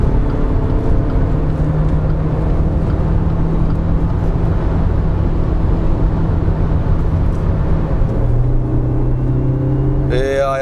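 Qoros 3 sedan accelerating hard on kickdown, a loud steady in-cabin engine drone that climbs before an upshift near 6200 rpm drops the tone, with road and wind noise throughout.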